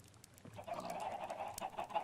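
Chickens clucking in a modded Minecraft survival game, a steady run of short fowl calls held at moderate level across the whole moment, with no talk over them.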